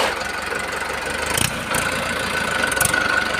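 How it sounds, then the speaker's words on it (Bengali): A tractor's diesel engine idles with a steady low rumble and knocking chug, close by, with a couple of brief bursts of noise over it. "এবার গাড়িটা স্টার্ট দিচ্ছে দেখুন ইঞ্জিনের আওয়াজ শুনুন"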